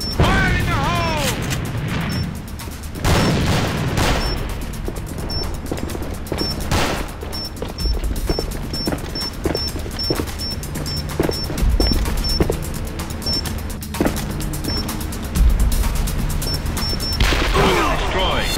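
A battle in the online shooter A.V.A. brings bursts of rapid gunfire and heavy booms from a grenade explosion, loud and dense, with shouted voices mixed in.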